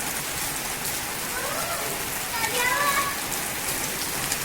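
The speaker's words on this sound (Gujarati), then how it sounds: "ફૂલ વરસાદ અચાનક" Steady, dense rainfall in Gir hisses evenly throughout, with a faint voice briefly rising beneath the downpour.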